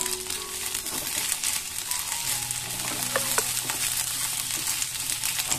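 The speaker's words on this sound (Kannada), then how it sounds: "ಬೆಂಡೆಕಾಯಿಯನ್ನ ಇದರಲ್ಲಿ ಹಾಕಿ ಇದನ್ನ ಚೆನ್ನಾಗಿ ಒಂದ್ಸಲ ಫ್ರೈ ಮಾಡ್ಕೊಂತ ಇದ್ದೀನಿ" Okra frying in coconut oil in a pan sizzles steadily and densely for several seconds, with occasional stirring scrapes and crackles, up close and without any voices.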